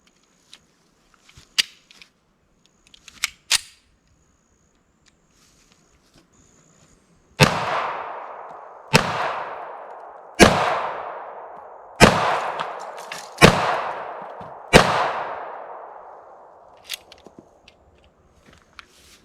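Six loud .45 ACP shots from an M1911 A1 pistol, spaced about one and a half seconds apart, each a sharp crack with a decaying echo, after several fainter clicks and knocks.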